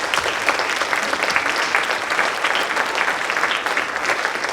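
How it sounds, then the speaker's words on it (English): A pageant audience at Miss Arcadia 2025 applauds the board of directors with steady, dense clapping that stays loud and even throughout, with no voices over it. "Please give a huge round of applause to the Miss Arcadia Board of Directors"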